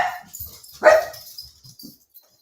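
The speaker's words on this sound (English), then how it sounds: "Dogs on the prowl." Dogs bark in a short burst: one loud, close bark stands out amid softer yips and whimpers, with no talking.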